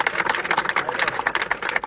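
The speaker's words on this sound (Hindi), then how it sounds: "एक बार अपने लिए जोरदार तालियां मारना" An audience at an office meeting claps loudly together, with dense, fast, uneven claps that continue through the short burst.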